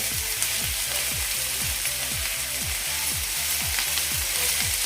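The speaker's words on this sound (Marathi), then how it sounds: "आता यामध्ये मी टॉमॅटो घालते टोमॅटो आपला सॉफ्ट होईपर्यंत आपण परतून घ्यायचा" Tomato and onion sautéing in a pan, a steady broadband sizzle with regular rhythmic scrapes of a spoon stirring, close and continuous, no talking.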